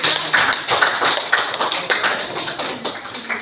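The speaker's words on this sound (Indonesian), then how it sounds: "Tepuk untuk mereka" Classroom students clapping for their classmates, a lively patter of many hands with some rhythmic taps, steady and fairly close throughout.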